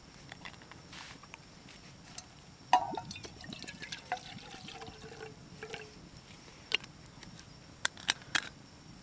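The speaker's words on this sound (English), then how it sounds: "Put a little bit of a heavy pour" Gin is poured into a cup at an Australian bush campsite on a canoe trip, a faint trickle with scattered drips and small splashes against quiet outdoor background.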